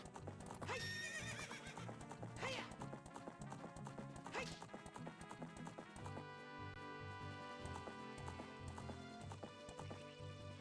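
A horse in Ocarina of Time: Master Quest video game neighs and whinnies over rhythmic clip-clop hoofbeats, with game music playing underneath throughout.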